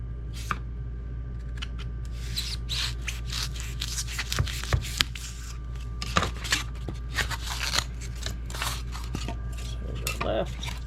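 A fillet knife slices through a 1-inch foam board during an RV air conditioner modification, giving close, irregular scraping and crackling cuts over a steady low hum.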